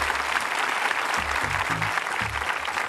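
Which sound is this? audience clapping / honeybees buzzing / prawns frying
audience clapping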